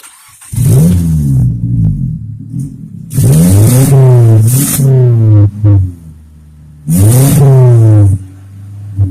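A turbocharged Mitsubishi Lancer rally car sits stationary while its engine is revved in three loud bursts, each one climbing and falling, with a steady idle running between them.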